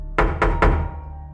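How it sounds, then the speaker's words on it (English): Three firm knocks on a door, evenly spaced and close, each a heavy thud with a short ringing decay, followed by quiet. "I knocked."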